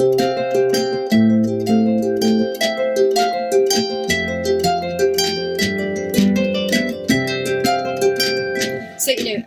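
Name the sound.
harp strummed rhythm with accents, played over a looper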